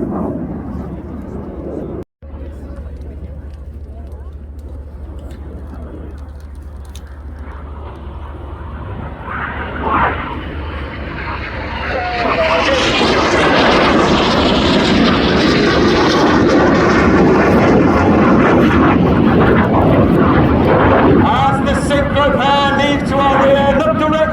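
Red Arrows jets in an aerobatic display at the Royal International Air Tour build from a distant rumble into a loud, sustained roar as they pass overhead, with an announcer's voice over loudspeakers early on.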